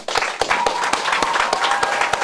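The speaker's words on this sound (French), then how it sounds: "Je vais vous demander d'applaudir." An audience at a firefighters' event claps briefly, with sharp, fairly loose claps mixed into light crowd noise and a faint ringing tone.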